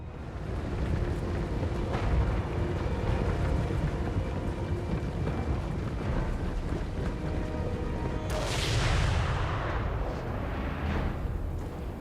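Cannons fire in a Total War: Warhammer 3 battle, a dense rumbling roar of distant blasts and battle noise, with a sharper crash of impact standing out late in the clip.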